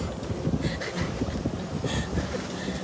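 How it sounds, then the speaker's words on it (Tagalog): Strong wind buffets the microphone with a constant low roar and gusty rumble, close and loud throughout. "Grabe ang lakas ng hangin dito"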